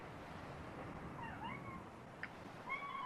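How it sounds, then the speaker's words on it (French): A pet cat named Kiwi meows indoors, giving a few drawn-out, wavering cries close by over a quiet room hum, with a short chirp in the middle. "Je t'ai entendu, t'as pas besoin de miauler plus que ça."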